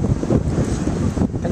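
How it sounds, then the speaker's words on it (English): Strong, cold wind on a seaside boardwalk at Seaside Heights buffets the microphone in a continuous low roar, gusting unevenly with no voices or other clear sounds. "It's cold and windy and breezy."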